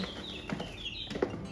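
Two-month-old chicks and young chickens in tall grass on a small farm give a few soft clucks and peeps, close by and faint, with quiet rustling between calls.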